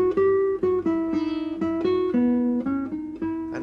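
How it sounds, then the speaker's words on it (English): A classical guitar plays a slow run of plucked notes with a soft, rounded, harp-like velvet tone. Each note rings clearly and decays gently, close and fairly loud, with no voices. "Or a harp-like velvet quality."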